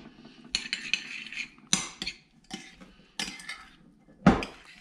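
A utensil stirs egg and shredded mozzarella into a cauliflower pizza crust mix inside a bowl, producing a series of separate clinks and scrapes at an irregular rhythm, close and fairly quiet.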